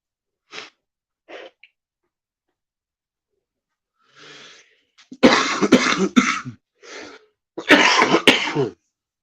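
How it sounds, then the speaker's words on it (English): Several harsh coughs, a few isolated at first, then two loud, close clusters of throaty coughing with brief pauses between. "Me and my son both got a nasty little cough"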